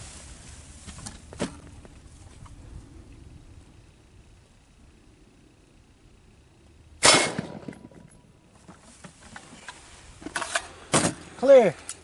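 Rifle shots fired at an AR500 armor steel plate at a range: a loud sharp report with a ringing tail near seven seconds, then a further cluster of loud impacts and clatter around ten to eleven seconds. Quiet outdoor ambience fills the gaps.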